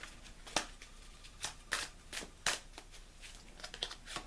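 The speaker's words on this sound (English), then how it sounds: "I'm going to shuffle till I feel led to pull a card" A deck of tarot cards shuffled by hand, soft close riffles and slaps in an irregular rhythm of quick bursts, faint and intimate with no talking.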